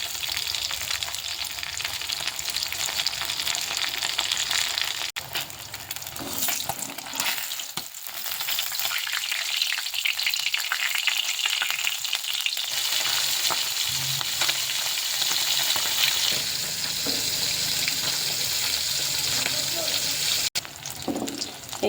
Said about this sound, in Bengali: এই মাছগুলো ভাজা হচ্ছে